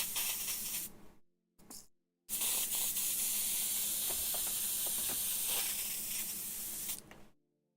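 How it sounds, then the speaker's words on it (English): A spray gun sprays paint in a sustained, close hiss, broken by two short bursts at the start and then one long continuous spray lasting about five seconds, with no talking. "Sometimes you can get lucky and spray it through,"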